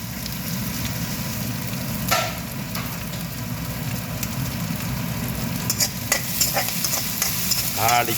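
Banana blossom, onion, curry leaves and dried chillies crackle and sizzle in hot oil with steady frying hiss, punctuated by occasional sharper pops and stirring clatter.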